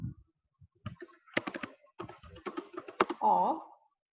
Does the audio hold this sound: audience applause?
no